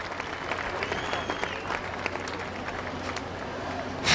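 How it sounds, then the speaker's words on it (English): A crowd at the 2013 Hurley Pro surfing contest applauds the runner-up, continuous clapping and scattered cheers held at a steady, moderately distant level. "Don't stop clapping."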